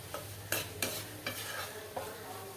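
Chicken pieces sizzling in a pan of fried rice as they are stirred, with several sharp scraping strokes over a steady frying hiss and low hum, close and moderately loud.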